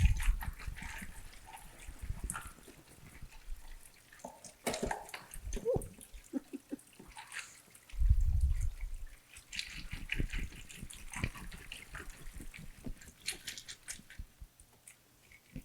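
A bag of oyster shells is shaken while water is poured over it, giving close, continuous splashing and dribbling with scattered rattling clicks and a brief heavier gush partway through.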